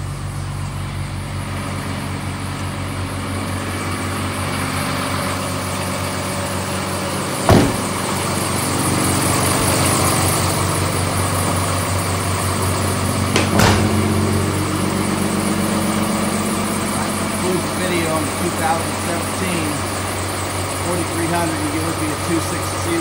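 International truck with its diesel engine idling steadily nearby, a constant low rumble with two brief sharp knocks partway through.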